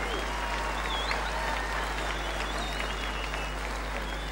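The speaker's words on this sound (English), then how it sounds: "let's give them a warm round of applause as they leave the stadium" Steady crowd applause in a stadium during the 2003 South Pacific Games closing ceremony in Fiji, continuous and fairly distant over a constant low hum, with faint voices mixed in.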